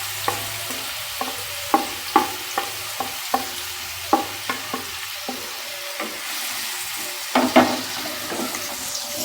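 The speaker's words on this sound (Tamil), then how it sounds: "இப்போ இந்த வெங்காயம் நல்லா வதங்கணும்" Onions frying in a pan for mutton chops masala, with steady soft sizzling broken by repeated sharp scrapes and clinks of a spoon stirring against the pan, close and fairly quiet, no talking.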